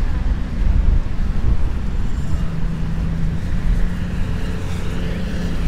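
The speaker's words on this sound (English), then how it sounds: "Huge waves." Strong wind roars steadily with heavy surf from big storm waves at the Ocean City, Maryland beach during Tropical Storm Ophelia, a constant loud low rumble with no voices.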